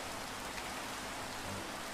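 Steady rain falls in the video game Minecraft, a dense, even hiss of raindrops with no breaks or voices.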